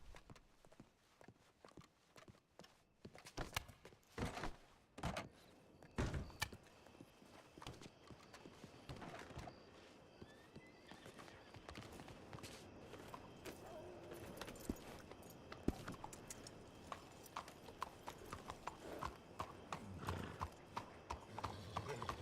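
Horse hooves clip-clop steadily while riding in a video game, a continuous quiet rhythmic patter that carries on throughout, with faint voices now and then.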